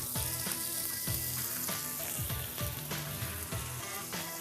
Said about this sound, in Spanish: y los vamos a rehogar con estos ajos.